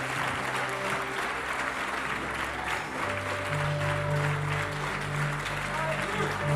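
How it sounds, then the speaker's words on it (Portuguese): A church congregation applauds loudly in praise during a Pentecostal sermon, sustained dense clapping with crowd voices mixed in throughout. "Vamos aplaudir mais alto ao Senhor."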